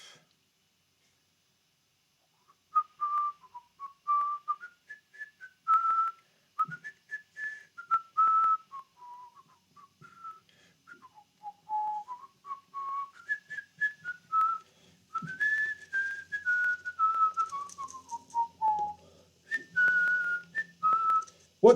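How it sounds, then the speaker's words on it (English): A man in a guitar-building workshop whistles an improvised, wandering melody up close, in clear phrases broken by short pauses, with light clatter from the shop in the gaps. "What tune am I whistling, Terry?"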